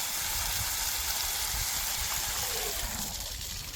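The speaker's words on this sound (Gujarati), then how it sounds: "એ હાથ પગ ધોવે છે" Water splashes and runs steadily as someone washes their hands and feet outdoors in a village, a continuous close hiss that fades slightly near the end.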